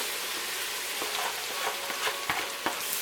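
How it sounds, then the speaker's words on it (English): Onions and celery sauté in melted butter on an induction hot plate set to 375, a steady close sizzle with a few soft stirring scrapes and taps scattered through it. "When the butter's melted, we're going to saute our onions and celery."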